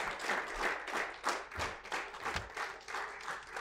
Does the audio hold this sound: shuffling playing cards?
no